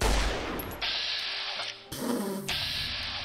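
Gunfire landing a headshot in Fallout: New Vegas, sharp loud reports with a hissing, noisy tail, two distinct blasts over steady game ambience.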